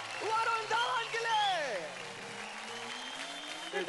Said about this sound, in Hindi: जोरदार तालियां हो जाए वरुण धवन के लिए